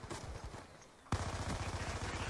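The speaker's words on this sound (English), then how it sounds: "I'm getting shot at like crazy" Rapid automatic gunfire in the multiplayer shooter Black Ops 2 on the Uprising map pack's Encore map, dense rattling bursts that briefly thin out, then resume sharply louder and continuous, close-up in a team deathmatch.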